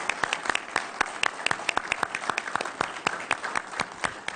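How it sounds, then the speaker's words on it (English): An audience at a mayoral candidates forum on city infrastructure applauds, a steady patter of many hands clapping close and fairly loud throughout. "I want to give a round of applause to the candidates"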